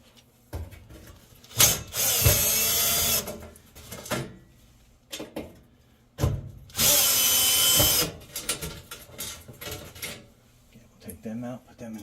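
A power drill backs two screws out of a Samsung oven's burner tray, two sustained whirring bursts of about a second each, close and loud, with a person talking between them.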